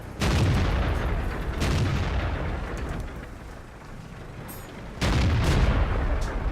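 Heavy tank cannon shots booming in World of Tanks, two big blasts a few seconds apart, each followed by a long rumbling decay, loud and close with no talking.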